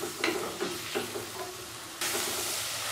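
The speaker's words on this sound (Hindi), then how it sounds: "प्याज को हम अच्छे से भून लेंगे, इतना भूनेंगे कि इसका कलर ब्राउन हो जाए" Onions fry in ghee or oil for saag gosht, sizzling up close while a spoon scrapes and stirs in a few distinct strokes, then the sizzle swells to a steadier, louder hiss.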